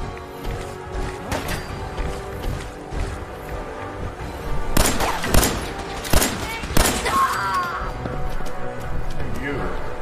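Gunfire crackles in several sharp bursts of shots clustered near the middle, standing out against a dense, noisy background din.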